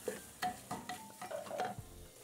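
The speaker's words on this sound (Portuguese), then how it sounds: "Dá mais uma refogada." Bean and sausage mixture stirred in a pan, short scraping strokes and soft sizzling in a quiet, brief burst of cooking.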